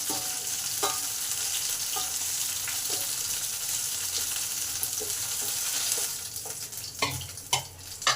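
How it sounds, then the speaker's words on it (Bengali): Chicken pieces frying in hot oil for chili chicken, a steady crackling sizzle with occasional utensil stirs and clinks growing more frequent toward the end. "এবার বাকি পিসগুলোকে এইভাবেই ভেজে নেব।"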